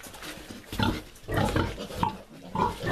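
On a pig farm with a sow and ten-day-old piglets, a pig lets out several grunts and short squeals close by, coming in uneven bursts with brief pauses between them.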